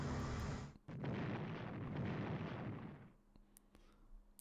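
A coastal gun is attacked in the WWII strategy game Strategic Command, and a heavy explosion booms then rumbles for a couple of seconds before fading into a few faint clicks.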